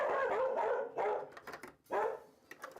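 A household dog barks three times in quick succession, each bark close, loud and sharp with a short gap between them, with no talking.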